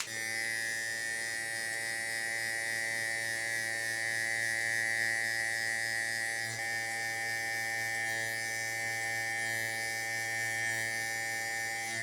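An electric hair clipper buzzes steadily and close up while cutting hair for a fade, a continuous even motorized hum with slight shifts in tone as it moves through the hair.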